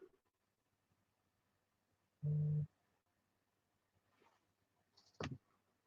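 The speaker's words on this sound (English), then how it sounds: "My phone is yelling at me." A phone alert going off indoors, a single short loud electronic buzzing tone followed by a brief high beep and faint clicks in a quiet room.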